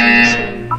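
A game buzzer from Portal 2, a single sustained electronic tone with steady harmonics that fades, followed by two short higher blips near the end.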